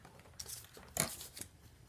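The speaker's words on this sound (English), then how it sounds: "we're just going to trim off all the flowers right along that circle" Scissors snip through paper while paper flowers are cut out for an Easter card, giving a few short, close crisp cuts and crinkles, with one sharper snip near the middle.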